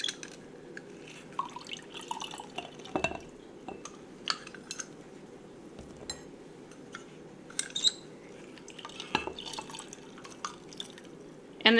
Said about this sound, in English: So then I will squeeze the lemon.